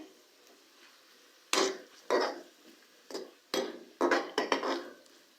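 A utensil scrapes and knocks against a cooking pot as tomatoes are stirred, a series of sharp, separate clacks in an irregular rhythm with quiet gaps between them, close and alone.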